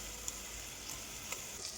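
Spinach puree poured onto roasted gram flour in a hot pan gives off a quiet, steady sizzle with a few faint ticks, and no voices are heard.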